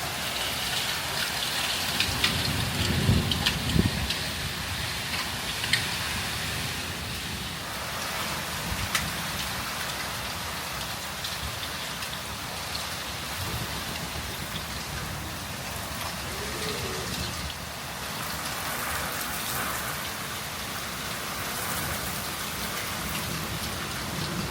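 Hail pours down steadily during a storm in Switzerland, a dense, even hiss of ice pellets striking surfaces that holds for the whole stretch without a break.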